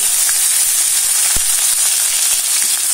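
Onion, garlic and ginger fry in hot oil for a Bengali bata fish curry, a loud, continuous bright sizzle with a single soft knock partway through.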